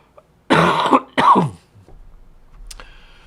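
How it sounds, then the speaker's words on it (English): A person with a dry cough gives two harsh coughs or throat clears close together, followed by quiet. "Yeah, it's a dry cough."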